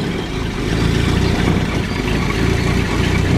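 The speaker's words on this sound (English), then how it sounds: "Well, there's a sweet sounding engine if ever I've heard one." Ford Anglia 933cc engine idling while still slightly cold with the choke on, a steady low mechanical rumble that stays close and even throughout.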